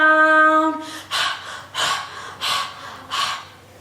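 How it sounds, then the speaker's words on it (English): Children panting after hopping in a beginner phonics lesson, four or five heavy, breathy exhales in a steady rhythm, close and clear after a brief musical tone. "Aren't you panting, children?"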